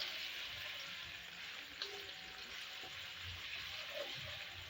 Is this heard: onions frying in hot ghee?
yes